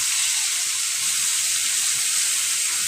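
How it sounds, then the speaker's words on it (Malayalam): Oil heating in a pan on a stove, a steady soft sizzling hiss that holds evenly throughout with no other sounds. "ഒരു പാൻ അടുപ്പത്ത് വെച്ചിട്ട് ഓയിൽ ഒഴിച്ചിട്ടുണ്ട്"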